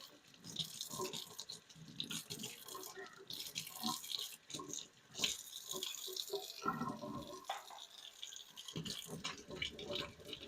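Tap water runs steadily over homegrown potatoes being washed and peeled in a sink, with splashing and handling noises throughout.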